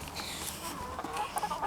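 Chickens cluck close by in a short burst of several quick, scattered clucks and squawks over a quiet yard background.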